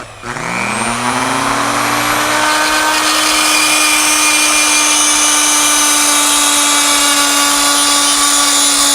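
A power tool cuts into a horse hoof held in a vise, spinning up at once and then holding a loud, steady high whine through the whole stretch, with no voices.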